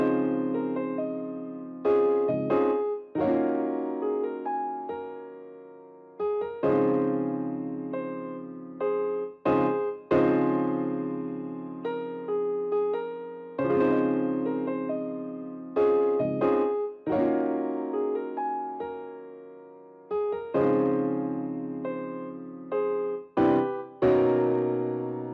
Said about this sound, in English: To get this sort of jazzy feel that I have, I used a lot of 7th and 9th chords